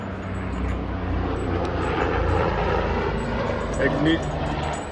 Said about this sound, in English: Private airplane landing at a private airspace hereby.